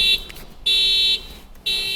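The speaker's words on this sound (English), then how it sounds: "Apparently somebody decided to set off their alarm just as they were stepping out of their car." A car alarm sounds nearby outdoors in a loud, repeating electronic pattern: three sustained high tonal blasts separated by short gaps.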